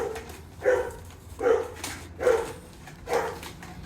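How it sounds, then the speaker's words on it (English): A neighbor's dog next door barks four times at an even pace, moderately loud and somewhat distant, with steady background noise between the barks. "My neighbor's dog next door to me making a lot of noise."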